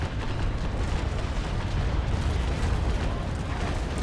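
Ship cannons firing in the naval combat game Naval Action, frigates Trincomalee and Belle Poule in battle, a dense, loud, continuous rumbling roar of gunfire and booms with no voices.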